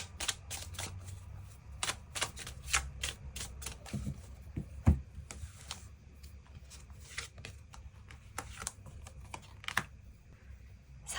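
Tarot cards being shuffled and drawn: dense, crisp flicks and taps of card stock, steady and close for several seconds, with occasional louder snaps and faint murmured speech in the background.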